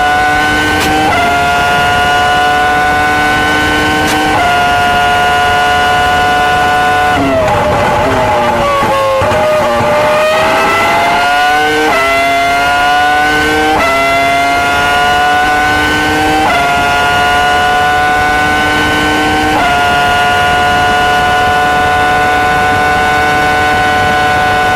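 Formula 1 cars in the F1 22 racing game scream down a back straight in a loud, continuous high-pitched engine whine. Pitch climbs through the gears, dips sharply as the cars slow, then rises again.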